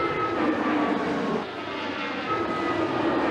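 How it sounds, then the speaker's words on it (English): Airplanes on a runway near an offshore recovery effort give a loud, steady engine roar that dips slightly midway and then swells again, with no voices. "planes come and go once more"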